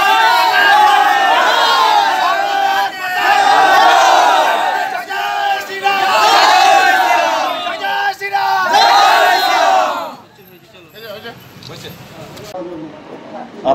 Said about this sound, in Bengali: স্লোগান দেন গো।